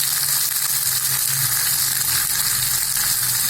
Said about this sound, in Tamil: கொஞ்சமாக போட்டு நம்ம தக்காளி வதக்கிடலாம்.